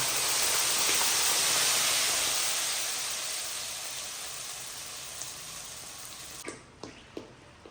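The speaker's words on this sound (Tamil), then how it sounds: "இப்போ அரைச்சி வச்ச மசாலா ஊற்றிக்கலாங்க" Ground masala for tomato kulambu hits hot oil with a loud, steady sizzling hiss that slowly fades, ending with a few light clicks.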